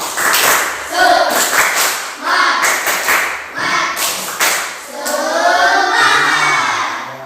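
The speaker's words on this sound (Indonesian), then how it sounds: "kita juga harus menambah semangat di dalam diri kita dengan tepuk semangat" A voice chants in a rhythmic pattern punctuated by sharp claps, a lively call-and-clap routine with steady beats close to the listener.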